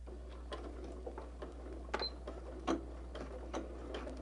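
A sewing machine stitches appliqué fabric with faint, irregular ticking and clicking over a low steady hum, quiet and close.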